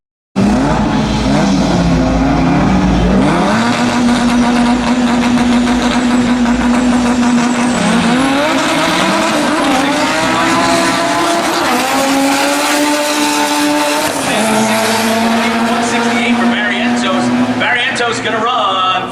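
A 1992 Honda Civic drag car does a burnout at a drag strip: a loud, sustained engine roar with rising revs and screeching tires that fill the whole stretch, with a voice talking over it.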